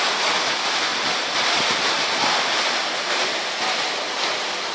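Ocean surf washes onto the beach at Waikiki in Honolulu beside a hotel, a broad continuous roar of breaking waves with wind, steady and loud with no voices.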